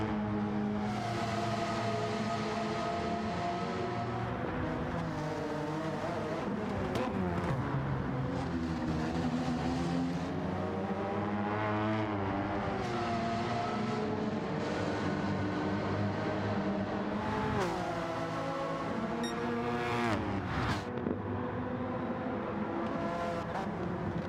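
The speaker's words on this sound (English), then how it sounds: "I love the pops from this Elantra. It sounds so menacing." A Hyundai Elantra race car in Gran Turismo 7 drones steadily through an endurance race, its engine note rising and falling with gear changes and throttle lifts, exhaust pops crackling between pulls.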